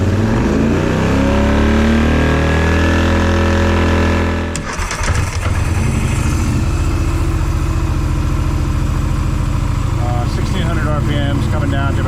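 A Polaris Sportsman 850 ATV engine idles loudly nearby, its pitch dropping as the RPMs settle after a brief dip, then holding a steady throbbing idle while someone talks over it.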